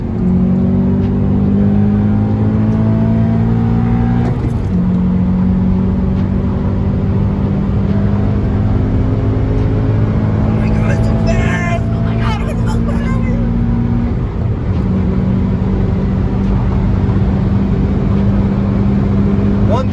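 An Acura TSX with reflashed engine tuning accelerates hard with its engine roaring loudly up the rev range, a brief dip around each gear shift, then rising again; someone speaks over the engine.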